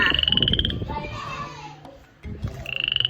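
Golden-coloured foreign frog sounding a rapid pulsed croak that stops after under a second, leaving a pause of background noise before the quick rhythmic croaking starts again.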